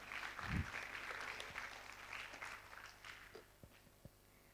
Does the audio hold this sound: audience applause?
yes